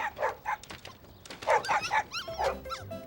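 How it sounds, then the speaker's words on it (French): A tiny puppy whimpering and yapping in a cartoon scene, a quick series of high short yips and whines, close and clear with brief pauses between. "C'est un des chiots qu'on entend."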